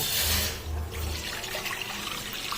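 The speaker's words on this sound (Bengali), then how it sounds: "কড়াইয়ের মধ্যে জল নিয়ে নেব," Water runs and splashes steadily into a metal kadai in a home kitchen, a continuous pouring wash, fairly close and alone.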